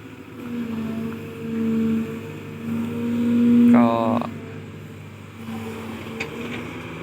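A KOBELCO SK200-10 excavator digging at close range gives a steady diesel engine drone that swells and eases with the work, with a brief rising hydraulic whine in the middle.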